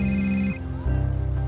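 A mobile phone's electronic ringtone plays close and loud at a family picnic in a park, one short burst that cuts off abruptly.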